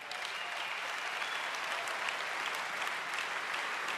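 A packed crowd at the CSU's Political Ash Wednesday rally breaks into dense, even applause, loud and continuous throughout with no talking over it.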